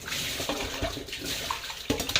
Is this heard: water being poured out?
yes